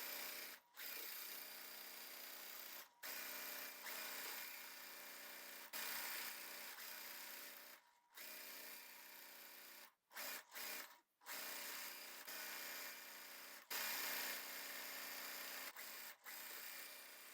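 A sewing machine joins quilt pieces for a charity quilt, running in close, fairly loud bursts of several seconds each, broken by short pauses between runs.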